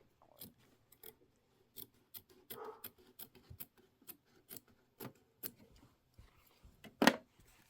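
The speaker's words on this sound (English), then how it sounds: "And just go ahead and trim that line." Scissors trimming fabric along a marked line for a 22-inch pillow, a run of quiet separate snips and crisp cuts at an uneven pace, close, with one louder snip near the end.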